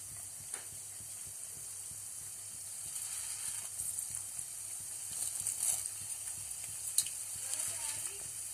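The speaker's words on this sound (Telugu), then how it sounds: "ఈ శనగపప్పు కొంచెం చక్కగా ఫ్రై కావాలి." Chana dal and two dried red chillies frying in oil for pulihora, a continuous close sizzling hiss with scattered small pops and a few faint stirring scrapes, no one speaking.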